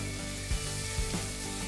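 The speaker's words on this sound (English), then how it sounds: "first we glaze the onions" Onions being glazed in a cooking pan give a steady sizzle, broken by a couple of brief soft knocks, with no voices.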